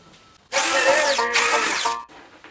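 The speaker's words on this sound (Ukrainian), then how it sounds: "Одні тоненьким свердлом робимо пару отворів для забезпечення сухості." A high-pitched power drill with a thin bit whines for about a second and a half, briefly dipping in pitch as it bores into the wood of a birdhouse, then stops.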